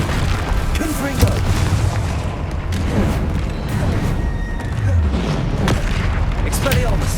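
Confringo fire-blast spell explosions in Hogwarts Legacy, a dense run of booming blasts and rumbling impacts over roughly seven seconds with combat effects layered throughout.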